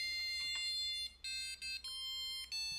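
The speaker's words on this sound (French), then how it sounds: "mon buzzer qui chante" An Arduino-driven buzzer plays a sequence of pure electronic tones, each note held briefly before jumping to another pitch, close and clear with short gaps between notes.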